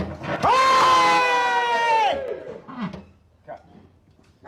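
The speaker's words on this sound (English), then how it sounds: "And a cheer!" In the film Return of the Jedi, a crew cheers: one loud, drawn-out shout rings for about two seconds, then trails off into a few fainter voices.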